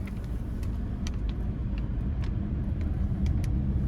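A 2013 Audi A8 L with a supercharged engine cruises along, producing a steady low rumble of engine and road noise inside the cabin, with faint ticking in the background.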